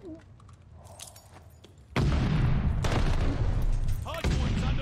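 Gunfire erupts around a hard point in an online shooter match, with bursts of rapid shots and booms growing loud and dense in the second half while players talk over it.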